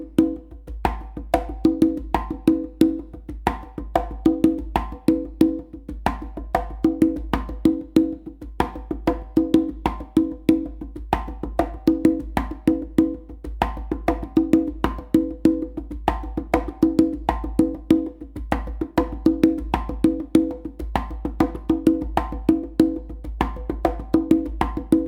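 A funk groove played on a single conga drum: a steady, repeating pattern of sharp open and muted hand strokes at a brisk, even tempo, close and clear with no talking.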